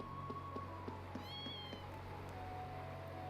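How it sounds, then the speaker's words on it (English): A kitten in the video game Legend of Heroes: Trails of Cold Steel II gives a single short, faint meow over quiet game ambience and soft background tones. "That is a cute kitten."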